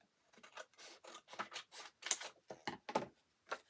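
Scissors snip through a junk mail envelope being cut up for a no-sew junk journal, a rapid run of about a dozen crisp, close cuts in uneven bursts with no voices.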